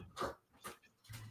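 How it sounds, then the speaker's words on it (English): A dog lets out three faint, brief whimpering whines in quick succession, soft and breathy, each separated by short pauses in an otherwise quiet room. "Sorry for my dog."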